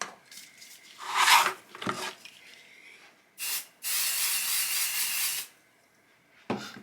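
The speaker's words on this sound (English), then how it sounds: "I'm going to spray my stabilizer with my 505 spray." Several hissing bursts from a 505 adhesive spray can onto embroidery stabilizer, one short, then a brief puff followed by a long steady spray, and a final quick spurt.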